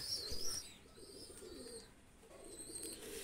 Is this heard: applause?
no